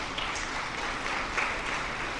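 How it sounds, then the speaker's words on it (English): Conference audience applauding at a Jamaica diaspora gathering, a steady wash of clapping across the whole stretch with no voices over it. "and that deserves a round of applause."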